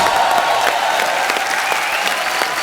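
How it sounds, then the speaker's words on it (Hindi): Loud, continuous audience applause on a comedy talk show greeting cricketer Yuvraj Singh, dense clapping from a full crowd with a few faint cheers mixed in, sustained at an even level. "एक बार यूवी बाजी के लिए जोरदार तालियां"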